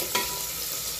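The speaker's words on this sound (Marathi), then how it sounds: "मोठ्या गॅसवरच आपल्याला हा कांदा व्यवस्थित असा शिजवून घ्यायचा आहे" Chopped onions frying in oil on high heat, a brief, close, steady sizzle with one quick stirring scrape near the start.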